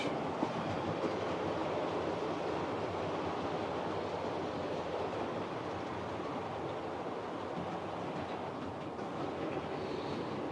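A model railway train runs on a hobbyist's layout, giving a steady, continuous rolling rumble with faint rhythmic clicking from the track that stays even throughout, with no voices over it.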